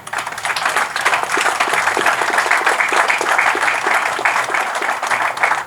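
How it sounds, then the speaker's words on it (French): An audience at a Gabonese official ceremony applauds with sustained, even clapping from a sizeable crowd, steady and fairly loud from start to finish. "Je voudrais qu'on applaudisse pour ces sages-là"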